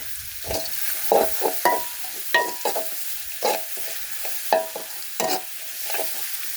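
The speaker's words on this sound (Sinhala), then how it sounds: "මේකට දැන් තක්කාලි සුවල්පයක් දානවා. තක්කාලි මේකට ලුණු. ඒක කබලම් කරගන්නවා." Tomatoes with salt frying in a pan for a soya curry, with a spatula scraping and stirring in quick, regular strokes roughly twice a second over a soft sizzle, close and distinct.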